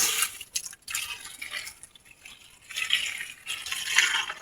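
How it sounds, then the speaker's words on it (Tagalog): Water splashes and trickles while vegetables are washed in a bowl or basin, with uneven bursts of pouring and dripping at close range and no voices. "mineral para siguradong malinis ang tubig na hinugas natin sa ating gulay"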